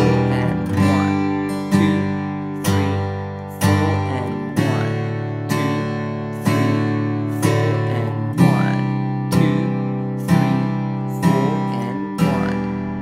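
Acoustic guitar strummed with four steady downstrokes, each chord ringing out evenly before the next, repeated at a regular pace with no voices.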